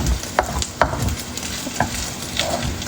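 Loud continuous sizzle of bacon frying in a pan, with occasional sharp clicks and scrapes of stirring.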